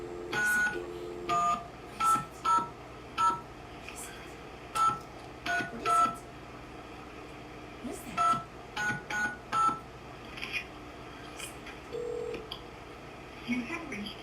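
Telephone keypad tones beep in short separate bursts, single and in quick pairs, spread irregularly over a steady low hum.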